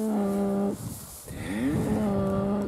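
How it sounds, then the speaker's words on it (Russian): Cattle grazing on pasture give two long, loud, close moos, one after another with a brief pause between, over a soft outdoor background. "кому было интересно насчет коров, как у нас коровы пасутся,"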